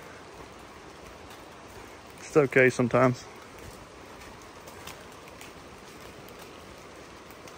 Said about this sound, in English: Keep track of how heavy the rain gets and all.